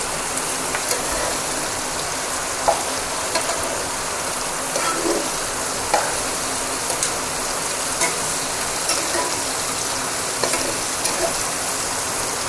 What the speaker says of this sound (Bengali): এইটা নেড়ে দাও একটু, নিচটা নিচটা